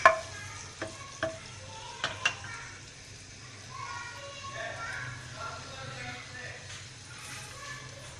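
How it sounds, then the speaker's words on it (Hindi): A steady sizzle of chopped garlic frying in hot oil, with a few sharp clinks of a utensil at the start and faint voices in the background. "कटा हुआ लहसुन डाल रहे हैं"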